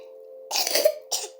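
A person eating balut coughs twice, close and fairly loud: a longer harsh cough followed by a short second one, over a steady background hum.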